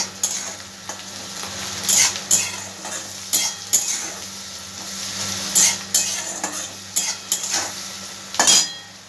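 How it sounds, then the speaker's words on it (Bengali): Onions with curry leaves and salt fry in a pan with a loud steady sizzle, while a metal spatula scrapes and knocks against the pan in repeated bursts, close up and without speech. "পেঁয়াজটাকে আমি একটু ভালো করে ভেজে নেব। পেঁয়াজের সঙ্গে কিছুটা আমি কারি পাতাও দিয়ে দিচ্ছি"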